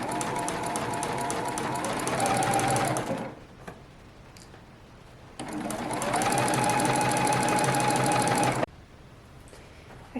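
A sewing machine runs in two steady bursts of about three seconds each, stitching a 5/8 inch seam around the facing edge of a 90s vintage-pattern playsuit, with a quiet pause between runs.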